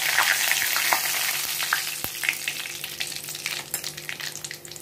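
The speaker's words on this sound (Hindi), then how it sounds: "इसी तेल में ही हम लोग डालेंगे थोड़ी सी कलौंजी यानी कि करायत का छौंका" Nigella seeds are tempered in hot oil while cooking a shorputi fish dish with mustard paste, a close, steady sizzle and crackle with scattered pops and the scrape of stirring.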